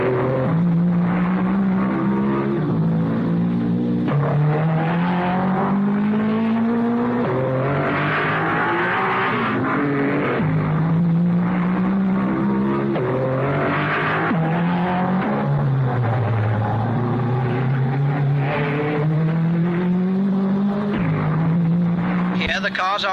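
Mercedes and Lancia race cars of the 1955 Monaco Grand Prix run along the street circuit by the seafront, their engines rising and falling in pitch as cars pass, continuous and prominent under a commentator's voice.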